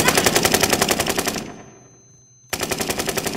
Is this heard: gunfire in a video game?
yes